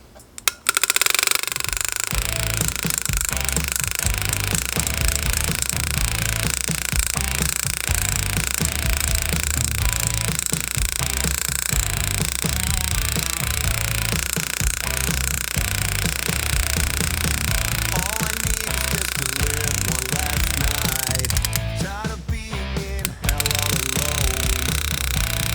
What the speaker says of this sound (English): one of these grinding wheels over the top of this to see what we can make it do.